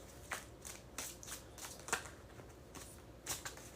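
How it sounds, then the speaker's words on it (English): Tarot cards being shuffled by hand, several quiet riffling bursts in a short irregular rhythm, close and soft, with no voice. "we need 3 more shuffles"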